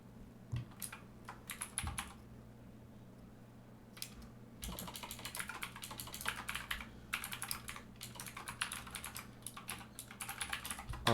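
Computer keys clatter as HTML code is typed, quick irregular bursts of close clicks separated by short pauses, with faint background hum and no talk.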